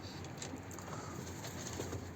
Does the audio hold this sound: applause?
no